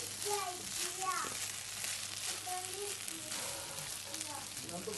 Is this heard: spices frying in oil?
yes